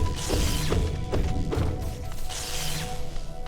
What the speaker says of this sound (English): Why did I get 2 explosions with the price of 1?